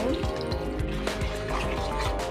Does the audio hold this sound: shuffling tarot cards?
no